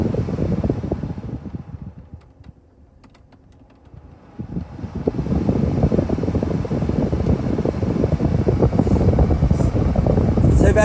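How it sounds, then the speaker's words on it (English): The air-conditioning fan of a 2008 Ford FG Falcon G6E Turbo blows steadily inside the cabin. Its rushing airflow drops almost to nothing for a couple of seconds, then ramps back up to a strong, constant whoosh. "So that's the fan speed."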